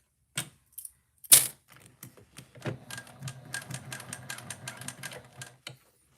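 A sewing machine with a zipper foot stitches a heart-shaped bag: a few isolated clicks, then a close, fast, rhythmic mechanical clatter that runs steadily with no talk.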